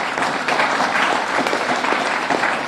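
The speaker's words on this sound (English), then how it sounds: "Give him a tremendous round of applause" A crowd of nationals claps for the Honorable Dr. Earl Asim Martin, the deputy prime minister of St. Kitts, at a gathering; steady, close, dense applause runs throughout without a break.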